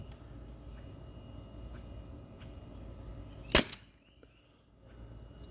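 A single sharp shot from an Umarex H&K VP9 T4E .43 blowback air pistol, a loud close crack standing alone against quiet room hiss.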